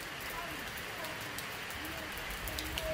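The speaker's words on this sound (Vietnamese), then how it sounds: "À, trời mưa trong Tây Nguyên này." Rain falls steadily in Vietnam's Central Highlands, a soft continuous hiss of drops on surfaces with faint scattered patters, quiet and unbroken across the whole stretch.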